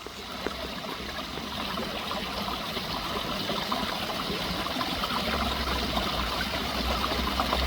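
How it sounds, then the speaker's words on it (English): A backyard garden waterfall runs over rock crevices planted with sedum, giving a steady, close, full-bodied rush and trickle of water that holds unbroken for the whole stretch, with no voices. "We're coming back down to the waterfall here."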